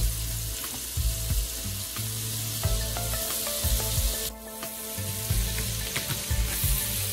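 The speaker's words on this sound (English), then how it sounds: "We're going to add some butter. Everyone let this melt down." Butter melting in a hot pan gives a steady, close sizzle and crackle, with low tonal thumps from background music running throughout and no voices.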